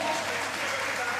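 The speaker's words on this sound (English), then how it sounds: "Please clap for Melly." Sustained audience applause at a live stand-up comedy show during an Ashanti festival, a dense, even clapping wash from a crowd.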